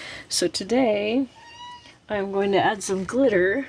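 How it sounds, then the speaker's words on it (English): A pet cat meows in the background while playing with a toy mouse, its calls rising and falling between stretches of someone talking close to the microphone. "You might be able to hear my kitty bouncing around behind me, playing with her mousey."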